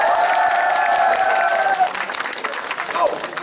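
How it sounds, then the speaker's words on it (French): Audience applause and cheering at the Geek Faeries 2012 convention greet Benzaie's arrival, a sustained burst of clapping from a crowd with a held tone early on, then a livelier mix of claps and voices. "Je vous prie d'accueillir dans un tonnerre d'applaudissements"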